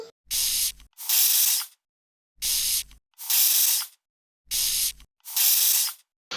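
Short hissing bursts of a green apple face spray bottle come in pairs, three pairs at even intervals, close and crisp with silence between.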